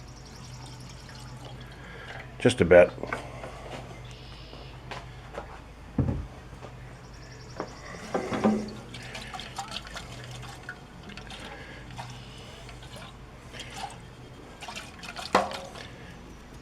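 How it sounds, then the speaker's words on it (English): Fresh gasoline is poured into a small Briggs and Stratton engine part to rinse it, making soft, faint trickles and drips with a few louder splashes against quiet room tone. A voice speaks briefly. "Pour in a little bit of fresh gas just to rinse out that little bit of arsol in there."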